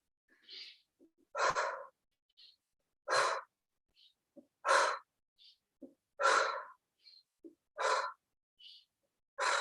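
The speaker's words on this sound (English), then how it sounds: "you can inhale through the nose, exhale through the mouth" Slow, regular breathing during a yoga-style fitness flow, with repeated loud airy exhalations through the mouth alternating with quieter nasal inhales, about six cycles close to the microphone, separated by brief silences.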